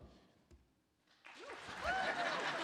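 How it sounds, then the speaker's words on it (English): Audience applause at a December college jazz lab ensemble concert, rising out of near silence into a full, sustained wash of clapping with a whistle-like tone over it. "I wasn't sure if you were going to clap"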